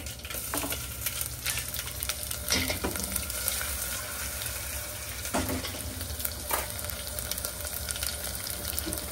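Urad dal, mustard seeds, cumin and crushed garlic tempering in hot oil, a steady close sizzle and crackle with occasional spoon-stirring scrapes, no voices throughout.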